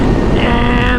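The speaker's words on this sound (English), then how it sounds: "Let's see how long I can hold it at full throttle." A Surron Light Bee X electric dirt bike runs at full throttle, a steady high whine with heavy wind rush, loud and continuous throughout.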